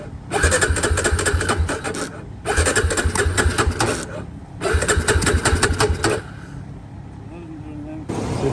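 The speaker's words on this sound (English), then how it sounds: "so I'm gonna try and jump start it." A Polaris Predator 500 ATV engine cranks over in three long, loud starter bursts separated by short pauses, churning rapidly without catching, followed by a quieter stretch and a final crank, with a voice speaking nearby.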